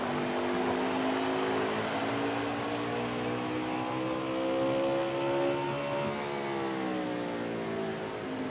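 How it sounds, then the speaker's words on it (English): Racing game race car pulling out of the pit lane at Richmond, a steady loud engine drone with rising harmonic whine as it accelerates, continuous throughout with no talk. "The 24 now leaving his pit."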